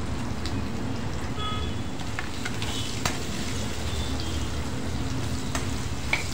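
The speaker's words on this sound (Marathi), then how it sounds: "आणि आता कैरी कापलेली टाकायची आहे त्यात" Cut raw mango tossed into a pan of lightly roasted spices, sizzling and frying steadily while being stirred, with occasional scrapes and clicks of the spoon against the pan; no voices.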